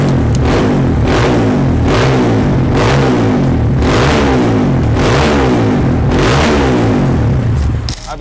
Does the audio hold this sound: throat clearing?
no